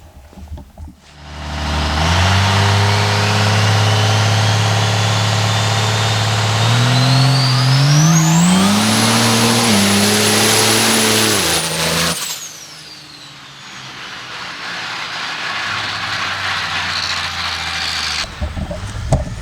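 Cummins-powered American Outlaw monster truck engine revving hard outdoors, a loud sustained roar that climbs steadily in pitch to a high scream, then drops away abruptly into a rough lower rumble before the end.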